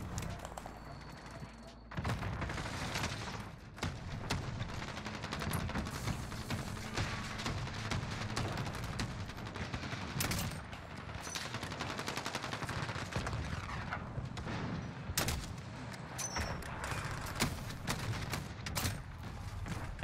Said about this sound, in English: I got that last shot